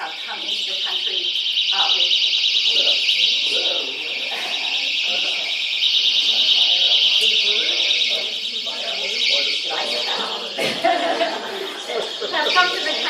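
A loud, steady electronic alarm sounds continuously throughout, its shrill tone persisting over people talking and laughing nearby in an indoor setting.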